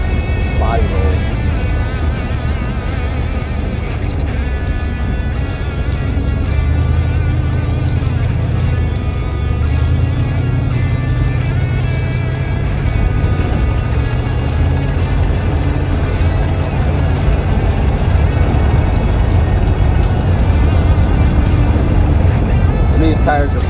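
A GMC Caballero that had sat for over 20 years drives at a steady cruise on old tires, its engine giving a low, continuous rumble throughout with road noise beneath, and people talk over it.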